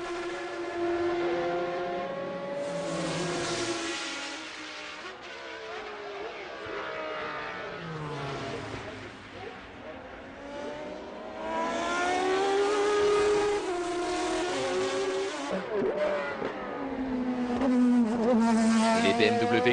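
BMW and Toyota race cars at the 24 Hours of Le Mans in 1999, high-revving engines whining and shifting pitch as they pass and accelerate, loud and continuous under French commentary.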